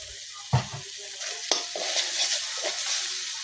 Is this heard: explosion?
no